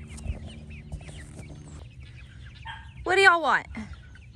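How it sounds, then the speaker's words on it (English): Chicks and chickens cluck and call while being loaded up, with a loud rising squawk near the end; a person speaks over the birds. "I'm just trying to load up some chicks."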